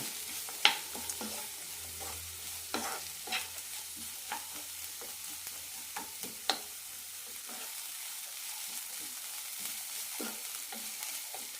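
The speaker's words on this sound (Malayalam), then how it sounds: "മൂന്നാല് മിനിറ്റ് നന്നായി വഴറ്റി കൊടുക്കാം" Cabbage sautéing in a pan for cabbage chutney: soft, low sizzle under scattered spatula scrapes and taps, a few sharper knocks early on, quiet and close, with no talking.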